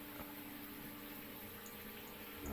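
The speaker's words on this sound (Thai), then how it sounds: "ปิดน้ำสิ ปิดน้ำวาวน้ำอยู่ไหนวะ เสียงน้ำมาจากไหนน่ะ" Water pours steadily from a shower in a horror video game bathroom, a faint, even hiss of running water that continues unbroken and with no voices over it.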